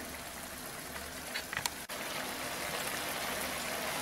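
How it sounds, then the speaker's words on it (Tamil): Steady bubbling simmer of potato broccoli curry in a pan, continuous and close, with a faint clink partway through. "ஒரு 2 நிமிஷம் நல்லா கொதிக்கட்டும்."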